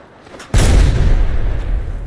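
A frag grenade detonates in Apex Legends, a sudden heavy boom that breaks out of quiet and rolls on as a loud, rumbling roar for over a second.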